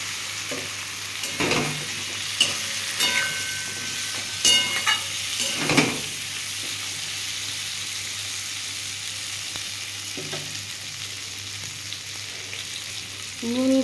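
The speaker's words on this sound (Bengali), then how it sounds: "আমি এবার পটলগুলো দিয়ে একটু ভেজে নেব।" Ripe pointed gourd (potol) frying in a pan for a mashed potol dish gives a steady oily sizzle, with occasional scraping stirs and clinks from a spoon against the pan.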